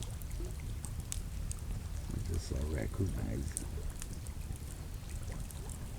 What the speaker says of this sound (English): That's probably all they can hear is the water in front of us.